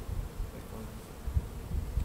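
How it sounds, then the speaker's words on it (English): Honey bees buzz in a dense, continuous drone during a July hive inspection, loud and close, with faint thumps underneath and no talking. "That's a bee."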